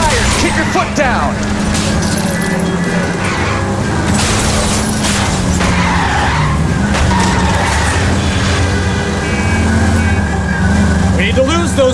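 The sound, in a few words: car tires skidding in chase, LA Noire video game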